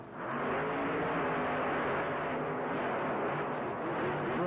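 A Hemi-powered monster truck roars while racing at an arena show, a loud, sustained engine blare swelling as it accelerates, with broad crowd-and-arena noise underneath.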